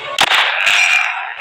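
Gunfire in a zombie shooter video game: a sharp shot near the start followed by a dense, sustained burst of rapid firing that stays loud for over a second.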